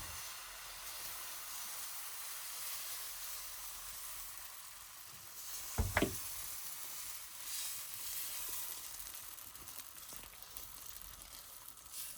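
Protein dosa batter, made with fenugreek, sizzles and hisses steadily on a hot frying pan, with a brief louder burst of crackle as more batter hits the pan, with no voices.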